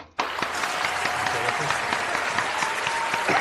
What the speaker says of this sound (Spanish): un aplauso fuerte para él